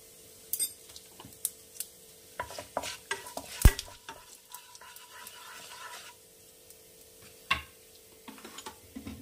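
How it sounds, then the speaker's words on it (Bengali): Cinnamon and whole cumin crackling in hot oil on a low flame, with scattered sharp pops and spatula clicks over a faint sizzle. "এই তেলেই আমি ফোড়ন দেব দারচিনি, আর অল্প একটু আস্ত জিরা।"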